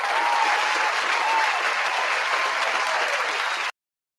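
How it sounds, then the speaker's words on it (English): A dense, steady round of applause from an audience fills the space at full strength, then cuts off abruptly just before the end. "This deserves a round of applause."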